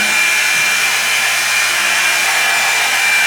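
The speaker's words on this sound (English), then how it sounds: "I'm going to put on the blow dryer. I'm gonna do low." A hair dryer on its low setting blows a constant, loud whooshing hum at close range, holding steady the whole time with no talk.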